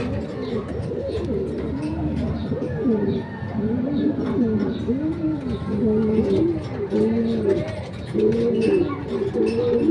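Racing pigeons cooing close by after the first lap of a 249 km North Derby in Tagudin, Ilocos Sur, with repeated rising-and-falling coos in a steady rhythm over a constant low background hum.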